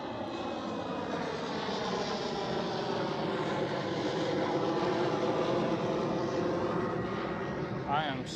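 Aircraft at Amsterdam Schiphol airport: a loud, steady jet engine roar with a continuous rumble and hiss, a voice talking over it.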